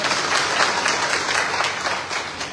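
A crowd at a Nishad Party rally claps in welcome, loud, dense applause from many people sustained throughout, with no voices over it.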